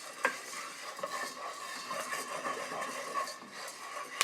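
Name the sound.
coffee beans popping and cracking while being roasted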